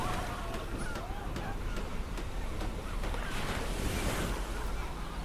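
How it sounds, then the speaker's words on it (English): Ocean waves wash steadily onto a beach, a broad continuous surf roar with wind buffeting the microphone and faint distant background activity, no clear talk. "I hear sounds of the ocean, birds, laughter in the background, but there's also sounds of traffic and construction going on."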